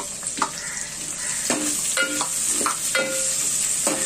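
Chopped onion frying in hot oil, a loud continuous sizzle close to the pan with several sharp stirring scrapes of a spatula spaced through it, no voices.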